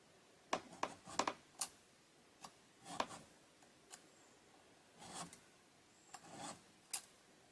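A blade is sharpened with a file outdoors at a bush shelter, giving quiet, irregular rasping strokes, some single and some in quick clusters, separated by short pauses.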